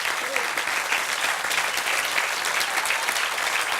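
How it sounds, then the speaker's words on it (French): A crowd at a firefighters' association game event applauds the firefighters' team, a dense, lively clapping that carries steadily across the whole stretch, loud and close with a faint voice briefly under it. "On peut les applaudir"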